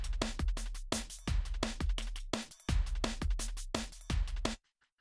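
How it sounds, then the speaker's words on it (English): Drum loop built in a Boom-style loop player, with a steady repeating pattern of kick and bright shaker hits pulsing evenly for about four and a half seconds before stopping abruptly into silence. "And my shakers are doing their thing."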